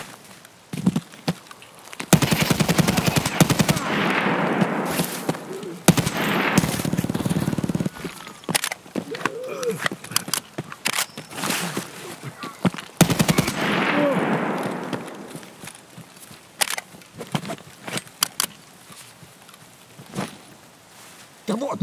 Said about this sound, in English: Stop shooting through the fucking bushes